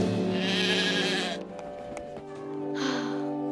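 A cartoon sheep in Thomas & Friends: All Engines Go! gives two wavering bleats, a longer one and then a shorter one after a brief pause, close and clear with no talking.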